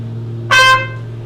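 A short trumpet note on high D with the first valve pressed, a brief bright blast of under half a second over a steady low background hum.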